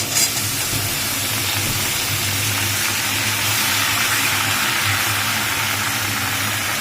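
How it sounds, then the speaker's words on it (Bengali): Shrimp and pumpkin sizzle steadily in a frying pan, a dense continuous hiss with a low hum beneath, close and loud throughout with no speech. "দেখো চিংড়ি মাছটা এই যে ভাজা ভাজা হয়ে গেছে জাস্ট একটু নাড়াচাড়া করে নিয়েছি"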